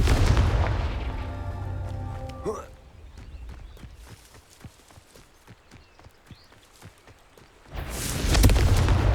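In the Hogwarts Legacy video game, a Confringo blasting curse bursts loudly at the start, followed by a quieter stretch of crackling pops and debris, then a second heavy booming blast near the end.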